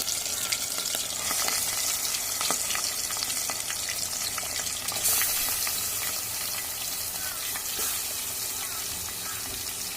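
Small-cut meat and potato pieces fry in hot oil, a dense steady sizzle up close with ladle stirring and occasional clinks throughout, no voice over it.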